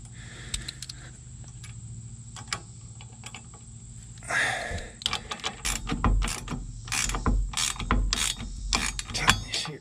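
A hand ratchet snugs steering box brace bolts on a Dodge Ram. The pawl clicks come in quick bursts, sparse at first and then denser and louder in the second half, close by with a faint background hum.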